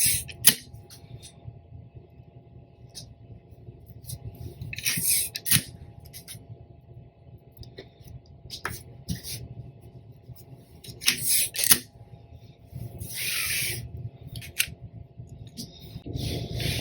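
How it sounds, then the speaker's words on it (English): Tape is pulled and pressed down to hold a large sublimation print sheet, giving sharp intermittent tearing and crinkling bursts against a quiet room. "we are just going to tape the rest of this down"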